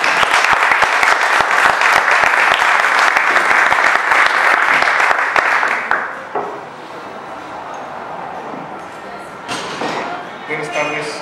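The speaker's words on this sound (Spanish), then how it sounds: "le voy a ceder la palabra al doctor Pedro Salmerón, para el cual les pido un fuerte aplauso," A lecture audience claps loudly for historian Pedro Salmerón at a Morena state committee event, with dense steady applause that fades after about six seconds into scattered claps and murmuring.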